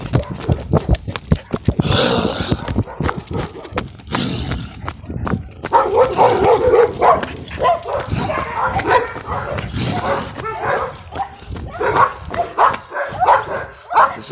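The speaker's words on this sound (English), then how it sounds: "It's a warrior dog, you know, lion dog this." Muscular lion-type guard dog barking and whimpering, with sharp yelps, bursts of barks and scuffling, close and loud, with people talking at times.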